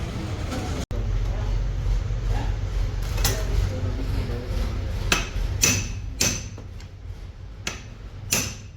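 Metal tool work on a Maruti Alto axle being removed in a workshop after the engine nuts broke, with several sharp clanks and taps scattered over a steady low rumble of background noise.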